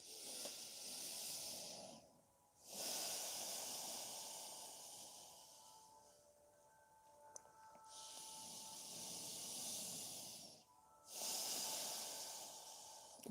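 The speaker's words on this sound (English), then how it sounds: "breathing through your nose" Slow, deep breaths pass through the nose during a yoga session, with long airy hissing inhales and exhales alternating with quiet gaps, close and fairly loud.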